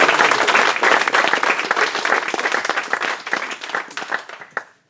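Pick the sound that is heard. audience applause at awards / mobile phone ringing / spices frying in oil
audience applause at awards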